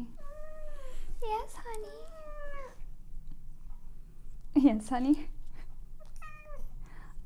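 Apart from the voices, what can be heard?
cat meowing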